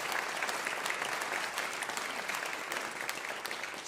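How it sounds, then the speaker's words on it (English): Warm, continuous audience applause at a live music show recognizing the volunteers, dense clapping from a sizable crowd that holds steady for the full stretch. "Please give them a round of applause."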